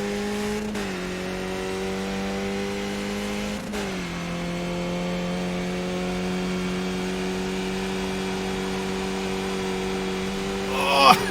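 A Skip Barber race car's engine drones steadily at high revs through a qualifying lap in iRacing, dipping briefly at two gear shifts before holding a constant whine, ending with a short rising burst.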